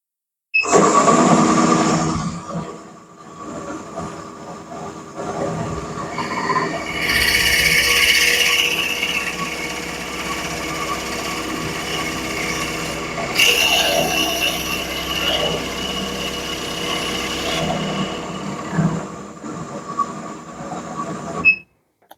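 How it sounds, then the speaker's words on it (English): Power drill boring a dowel hole into a wooden face frame clamped on the bench, a steady mechanical whir rising and falling over about twenty seconds with louder bursts mid-way, no talking. "drill that hole."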